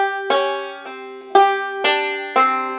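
Banjo picking a bluegrass phrase from Man of Constant Sorrow, five bright plucked notes with sharp attacks and quick decays, close and solo with no talking.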